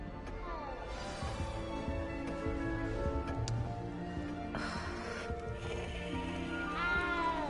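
A cat meows repeatedly in the Hogwarts Legacy video game, several drawn-out tonal mews over soft castle ambience and background music, with a brief ticking sound partway through.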